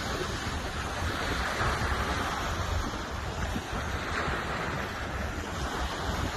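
Ocean surf at high tide washes steadily onto a beach, a continuous loud roar of breaking waves mixed with wind buffeting the microphone, with no voices.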